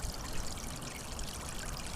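Pond water trickles and streams steadily as a heavy, rainwater-soaked lily pot is gently lowered into the garden pond, a close, even gurgling with no voices.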